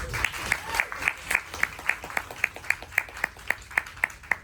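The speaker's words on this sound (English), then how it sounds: "Round of applause again for our volunteers" Audience applause for volunteers at a film festival's animation day panel: a steady run of crisp, evenly spaced claps, moderately close and fairly light, continuing alone without talk.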